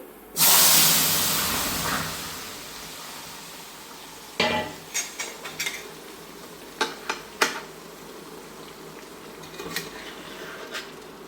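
Pama fish hit a hot pan with a sudden loud hissing burst that fades over a couple of seconds, followed by quieter intermittent sizzles and sharp clinks of stirring or utensils.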